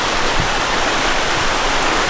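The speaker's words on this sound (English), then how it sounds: "See this waterfall there. I think it actually comes down from a pipe." Water pours steadily from a pipe as an artificial waterfall beside a footpath, a loud continuous rushing roar heard close with no voices.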